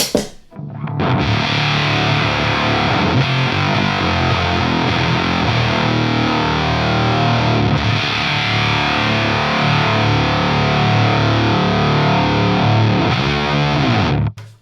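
Heavily distorted electric guitar in drop D riffs through a Joyo Voodoo Octave Fuzz pedal into a Vox amp, with a thick, fuzzy, low-tuned tone, playing continuously and loud for the whole stretch.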